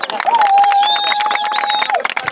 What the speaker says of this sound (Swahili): mjipigie makofi mengi sana tafadhali